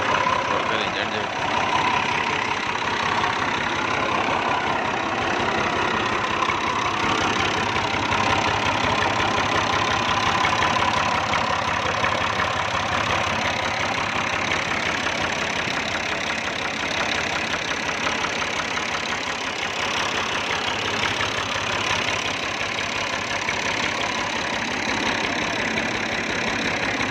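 A Fiat 2000 tractor engine idles steadily at mid loudness for the whole stretch, a continuous low rumble with faint knocking texture and no speech over it.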